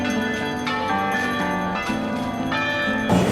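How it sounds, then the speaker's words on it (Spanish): The large church bell known as La Chepona rings in Guatemala, its tolls overlapping with sustained, shimmering metallic tones that swell and fade without pause, loud and reverberant. "para escuchar el sonido de la campana más reconocida de las iglesias acá en nuestro país, la cual lleva por nombre la Chepona"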